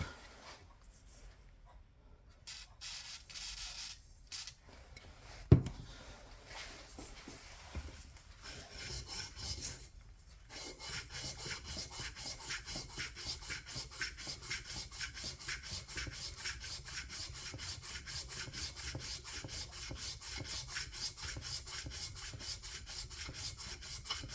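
Sandpaper rubs steadily against a carburetor part from a 1938 BMW R35 motorcycle, starting with scattered scrapes and a sharp knock, then settling into a fast, even rasping stroke that runs close and continuous.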